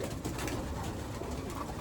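A pigeon coos softly against a noisy, muffled background, a brief low murmuring call with no voices.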